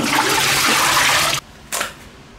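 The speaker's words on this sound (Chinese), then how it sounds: "先我们把葱洗干净。" Running tap water pours steadily while green onions are rinsed, loud and close, then cuts off abruptly, followed by a short second burst of flow.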